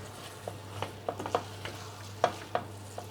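A spoon stirs stuffed grape leaf filling in a pan, giving soft scraping strokes and light clicks over a gentle sizzle, close and fairly quiet.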